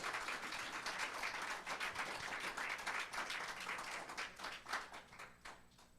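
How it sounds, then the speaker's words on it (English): A congregation at a Sunday service in London, Ontario claps for a man called to the front, producing moderate, rapid applause that thins out toward the end. "Nice round of applause for Chris."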